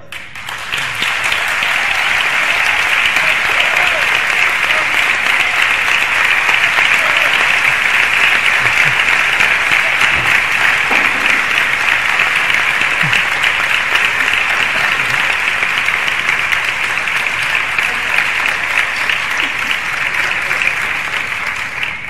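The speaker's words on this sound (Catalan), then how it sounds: "Estos aplaudiments, no sé, me sent molt emocionat, de debò." Audience applause after a poem recital at a festival queen presentation in Nules, long sustained clapping from a large crowd, loud and even throughout with no pauses.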